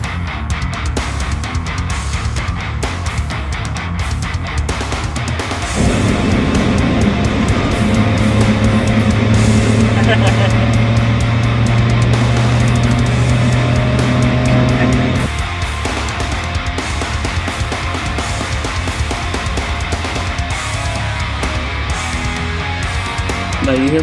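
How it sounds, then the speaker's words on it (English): Ford Raptor truck driving at high speed along a relatively smooth trail, a steady loud engine drone and road rumble throughout, with rising engine tone in the middle stretch and no talking. "I wanted to take the truck through this nice high speed section"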